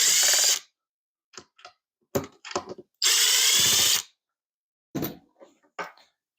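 Power drill backing screws out of kitchen cabinetry in a workshop, with two long loud full-speed whirs and several short bursty pulses of the motor in between, close and without talk.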